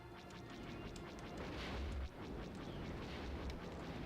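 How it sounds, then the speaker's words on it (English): Missiles fired in Star Wars Rogue Squadron, a dense run of rapid explosive bursts and booms over a steady low rumble, faint and continuous with several sharp hits and no talking. "Someone's firing missiles."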